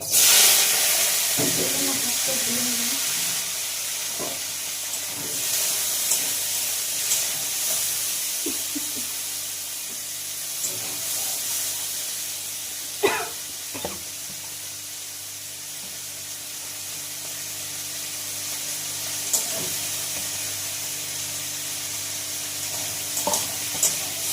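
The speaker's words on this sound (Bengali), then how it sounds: "হলুদ দিয়ে আমি এখন একটু ভেজে দেবো রান্নাটা দিয়ে" Bitter gourd frying in a pan with cumin and turmeric, a continuous hiss of oil broken by scattered clinks and stirring knocks over a long stretch, fairly quiet, with faint background voices at times.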